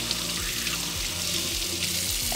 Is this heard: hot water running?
yes